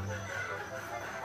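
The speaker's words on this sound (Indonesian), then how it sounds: "ayam ini pada berisik-berisik" Chickens clucking noisily, a brief burst of overlapping fowl calls mixed into a busy background hum.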